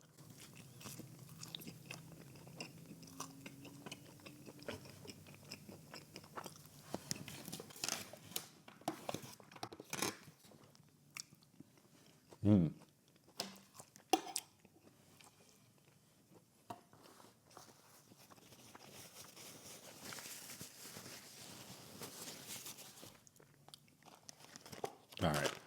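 Close, crunchy bites and chewing of Halal Guys fries, eaten a few at a time in a quiet room, with soft rustling between mouthfuls and a few sharper crunches.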